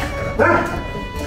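A street dog gives a single short bark, fairly near, over a steady background hum, with a faint yip trailing after it.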